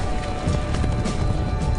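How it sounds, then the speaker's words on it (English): Horses galloping at speed through brush and across streams, a dense, continuous thudding of hooves at close range with a rough rustling wash over it, no voices. "Jumping streams, the horses move with incredible speed through the brush."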